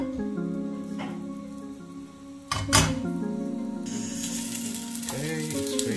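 Luncheon meat frying in oil in a pan, a crackling sizzle that swells sharply partway through and then hisses on steadily, heard over a sustained tonal background that sounds like music.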